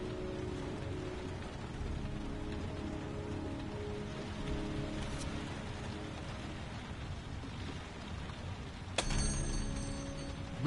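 Rain falling in Heavy Rain, a steady soft hiss of rain on surfaces that holds throughout, with a sharp click near the end.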